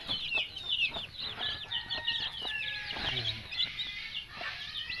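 Newly hatched chicks peeping in rapid, high, continuous chirps, with a hen clucking low nearby on a farm, close and busy throughout.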